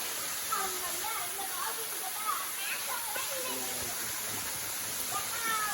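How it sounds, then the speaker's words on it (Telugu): Steady rushing water of a waterfall in the Palakonda forest, a constant broad hiss beneath a person talking nearby. "చూస్తున్నారు కదా, ఇదే వాటర్ ఫాల్స్"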